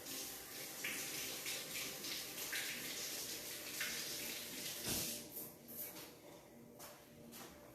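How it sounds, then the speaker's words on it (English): Tap water runs steadily over fresh strawberries being washed in a kitchen, a close hissing stream with rustling and splashing bursts, briefly easing off partway through. "Let me wash these guys."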